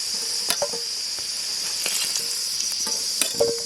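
Potatoes frying in hot oil at an outdoor picnic, a steady bright sizzle running throughout with occasional clinks and stirring scrapes, close and fairly loud, no talking.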